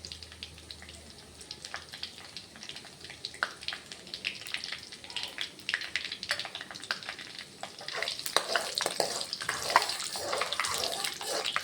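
Chana dal fries in a pan with a close crackling hiss that swells noticeably louder and denser partway through, with occasional light stirring clicks.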